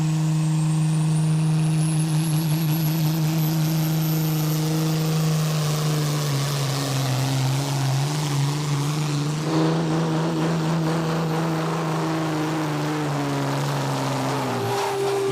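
A heavy pulling tractor, Mike Ritter's Brutalo Verde, roars at full load through a full pull at a tractor pulling event in Knutwil, a loud, steady engine drone that shifts pitch partway and cuts off abruptly at the end.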